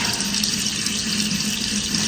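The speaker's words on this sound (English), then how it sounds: "I'm going to water this" Water pours steadily onto a repotted monstera plant in its pot, a constant close splashing rush that carries on without a break and without any voices.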